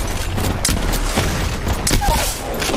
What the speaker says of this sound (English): Grenade.